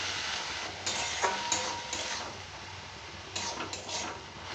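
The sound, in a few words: stirring cumin and chili powder into frying greens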